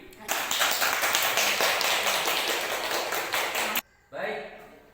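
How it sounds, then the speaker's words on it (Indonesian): Audience at a school meeting bursting into dense applause for several seconds, then stopping abruptly, followed by a brief voice. "Baik, tepuk tangan untuk Ibu Dewi."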